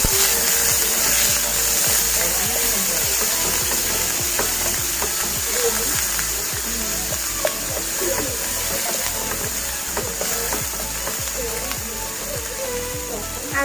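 Onion paste frying in mustard oil in a pan, cooked for an Assamese sweet-and-sour fish curry with brinjal, gives a steady loud sizzle with a rhythmic scraping of stirring under it.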